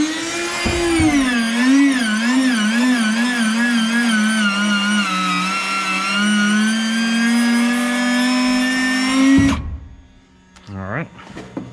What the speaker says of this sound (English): So we'll go here to our gear lever. We'll go to the up position now.